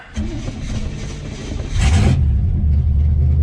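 A 1967 Chevrolet Impala, revived after sixteen years abandoned, idles with a deep steady rumble that swells louder as it revs up partway through and holds at a heavier, rougher idle.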